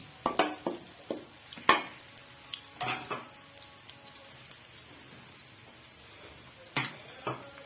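A quiet, steady sizzle of garlic frying in a pan, punctuated by occasional clicks and scrapes of stirring, with no talking.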